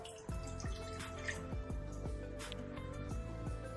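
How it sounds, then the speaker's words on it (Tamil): Water trickles into a cooking pot, a light dripping, splashing pour with repeated drops, close by and fairly quiet, no voices. "ஒரு பாத்திரம் எடுத்துக்கலாம் அதில் ஒரு கப்பு தண்ணி ஊற்றிக்கலாம்"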